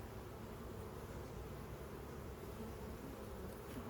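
Dense, steady hum of honeybees around a hive full of swarm cells, many wings droning together close by without pause.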